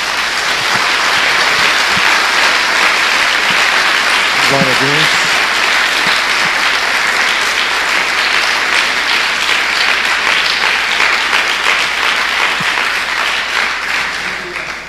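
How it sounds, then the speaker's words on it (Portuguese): A church congregation bursts into loud, sustained applause during a sermon, clapping continuously for fifteen seconds while a voice briefly calls out partway through before the clapping tapers at the end. "Dê uma salva de palmas a Jesus."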